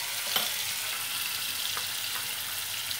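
Poppy seed paste frying in a pan for a katla fish curry gives a steady, close sizzling hiss with a few small pops and crackles, and no one speaks.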